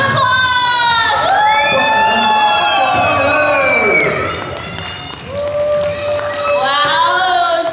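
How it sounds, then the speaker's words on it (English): An audience at a Hmong New Year and Christmas fashion show cheers, whoops and shouts loudly and close by for the participants on stage. The crowd noise is sustained and dips briefly before swelling again. "let's give them a round of applause"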